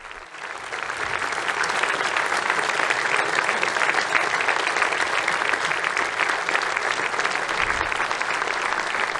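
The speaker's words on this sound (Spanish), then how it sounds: "Este es el aplauso que recibe el Santo Padre" A large crowd in Bratislava applauds Pope Francis with dense, steady clapping that stays loud and even for several seconds, without speech.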